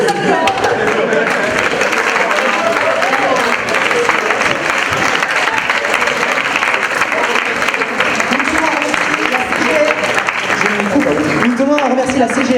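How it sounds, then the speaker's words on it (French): Applause rings out from the audience at a talent show, dense and steady for the whole stretch. It is loud and continuous, with a voice talking over the clapping. "Merci aux participants de venir sous les applaudissements."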